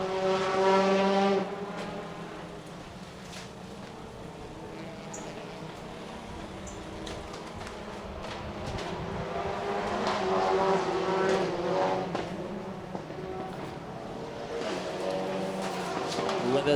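TCR touring race cars racing at the Hungaroring circuit, engines droning and shifting pitch as they pass, under continuous commentary.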